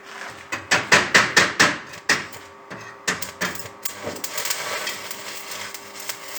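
A single-phase inverter welding machine runs on the L3 phase of a three-phase supply, giving a rapid series of loud sharp crackling bursts, then a brief pause and a steadier ongoing sizzling crackle, with no talking.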